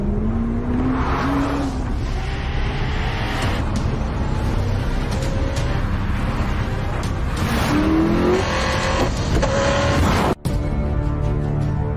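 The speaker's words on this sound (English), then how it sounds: "The Hennessy Venom GT." A Hennessy Venom GT supercar roars loudly throughout, its engine note rising and falling with gear changes and revving as the car accelerates and speeds past.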